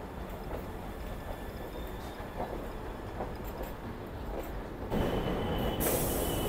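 The Jamalpur Howrah Superfast Express runs into Howrah with low, steady rolling and squealing wheels heard from some distance, then the noise grows suddenly louder and broader near the end.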